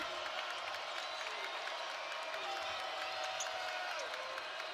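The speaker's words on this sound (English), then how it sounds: "Crowd getting loud." A college men's basketball arena crowd during a game between BYU and Nebraska rises into a sustained, distant roar of cheering and noise, an even wash of many voices heard at a low level throughout.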